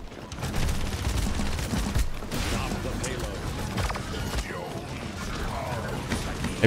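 Gunfire from the online shooter game Paladins crackles and ratchets steadily throughout, dense rapid shots with mechanical clicks layered over a busy game soundscape.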